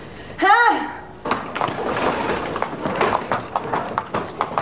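Horse hooves clip-clop on the ground in a close, rhythmic series, with people talking over the steps.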